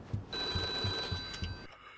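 In The Godfather video game, an old-style telephone bell rings in a lobby in four or five quick pulses, set back in the room over a faint background hum, with the last ring cutting off.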